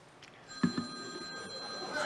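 A phone rings in the audience at a congressional district candidates' forum, a few steady electronic ringtone tones over quiet room noise, with a brief voice near the start.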